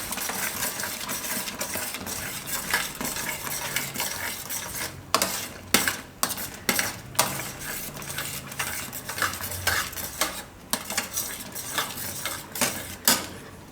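Desi-style pasta stirred in sauce in a pan, with a spoon scraping and clinking against the metal in a steady, repeated rhythm, close and fairly loud.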